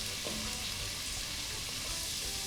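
Onion sautés in margarine in a pan, giving off a steady, faint hiss of frying with soft crackles and no voices.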